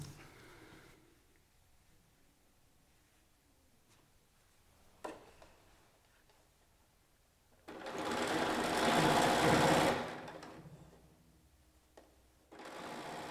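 A sewing machine chain-pieces quilt blocks in a short loud run of a couple of seconds. Quiet handling noises and a click come before it, and a brief second burst of stitching follows.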